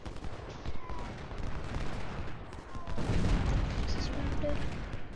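Musket volleys rattle in the Ultimate General: Civil War video game, a dense ongoing crackle of distant rifle fire that swells louder partway through, with no speech over it.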